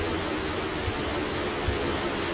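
A plane engine in the video game Just Cause 2 gives off a steady, loud jet roar, an unbroken wash of noise with no talk over it.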